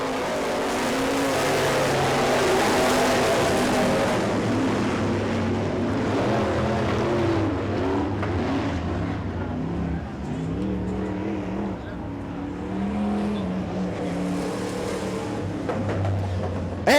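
B-Mod race cars roar around a dirt track during a heat race, engines droning loudly and continuously, some rising and fading as cars pass, while an announcer talks over a PA.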